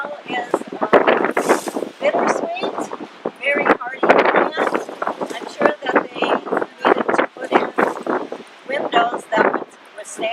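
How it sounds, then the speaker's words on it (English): Gusty wind buffets the microphone in an outdoor shade garden, with plants along a fence line and brick wall, roaring steadily beneath continuous close talking. "Today's pretty windy."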